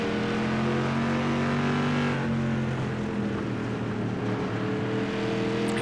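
Race engine of an SK Modified car on an oval track in the iRacing sim, a steady, loud droning roar that holds its pitch and then shifts slightly as the throttle changes, with no talk over it.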